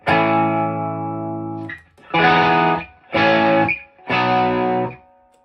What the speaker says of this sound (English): I'm going to do a little bit of overdrive and demonstrate how it's a great way to boost.